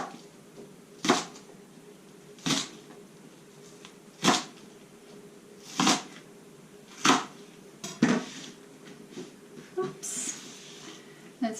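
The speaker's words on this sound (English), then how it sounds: "I'm going to cut my spring onions in about inch long" A knife chops spring onions into inch-long pieces on a board for kimchi, about eight sharp, separate thunks spaced a second or more apart, close by with a faint hum between cuts.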